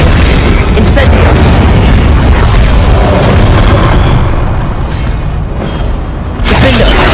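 Spell explosions in the Hogwarts Legacy video game pile up into a loud, continuous roar of booms and bursts with sharp bright cracks, while shouted spell incantations come through in bursts.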